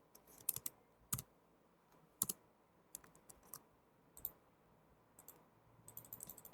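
Computer keyboard keys clatter in short, sparse bursts as code is typed, close and fairly quiet, with pauses between clusters of clicks and a quicker run of keystrokes at the end.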